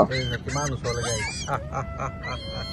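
Loud, close honking calls from geese or similar fowl repeat in quick bursts, several birds overlapping in a noisy chorus.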